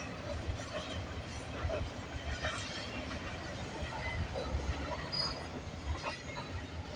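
CP freight train 113 rolls past close by with a loud, steady rumble of wagons, with rattling and occasional squealing wheels running throughout.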